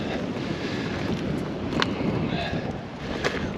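Wind gusting over open water in the Bristol Channel at Bendricks Rock, a rough, buffeting rumble against the microphone with a few brief sharp knocks, rising slightly in strength toward the end.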